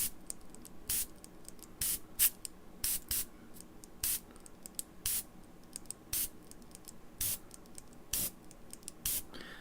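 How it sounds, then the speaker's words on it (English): Trigger spray bottle squirting over and over, short sharp hissing bursts at a steady irregular rhythm, close and fairly loud, with no voices. "just give the trigger a couple of tweaks and a little squirt"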